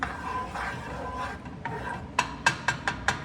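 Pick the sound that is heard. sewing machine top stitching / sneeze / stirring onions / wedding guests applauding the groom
stirring onions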